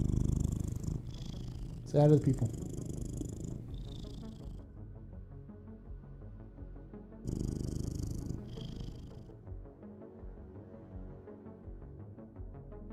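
A pet cat purrs loudly and steadily with a low rumbling drone close by, while a person talks to it in a few short phrases over the purring.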